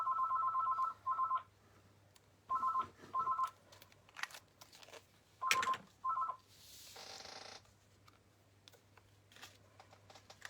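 A mobile phone ringing in a loft, its electronic ringtone sounding in short paired bursts of beeping tones that repeat several times, with brief clatter and handling noise between rings and no speech.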